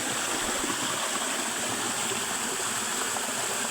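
A waterfall pours into a deep plunge pool beside an old lanzones tree near a tunnel entrance, giving a steady, dense rushing roar that stays even and close throughout with no voices.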